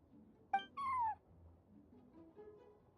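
A cat meows once in Genshin Impact: a short chirp, then a longer falling meow, close and clear over a quiet background.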